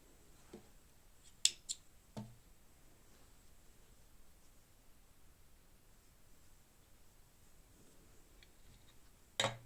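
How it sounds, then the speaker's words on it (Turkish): Scissors snip through crochet yarn, giving a few sharp close clicks early on and one more near the end, with quiet room hiss in between. "Şimdi bu noktada ipimi kesiyorum."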